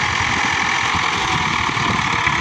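A Hindustan HWD 50 hp tractor engine runs steadily at close range while loaded with sugarcane, giving a continuous low throbbing rumble with a rough, knocking pulse and no speech.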